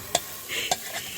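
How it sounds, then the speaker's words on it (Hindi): Tadka tempering sizzling in a pan while rajma cooks on an outdoor stove: two quick sharp hisses a fraction of a second apart, then a softer sizzle, close and fairly quiet with no talking. "इतना जबरदस्त तड़का लगाया"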